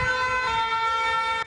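Ambulance siren wailing steadily, close and loud, with no speech, as ambulances race to a restaurant where a shooting was reported in a Paris city center on a busy Friday night.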